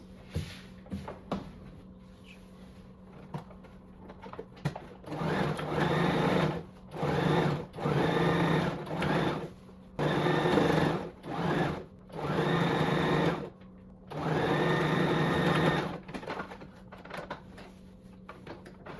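A sewing machine runs a French seam in several short bursts of rapid, close stitching, separated by brief quiet pauses with small handling clicks.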